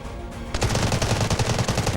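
Rapid automatic gunfire from the video game Delta Force rattles out in a dense, loud, steady stream of shots after a short quieter lead-in.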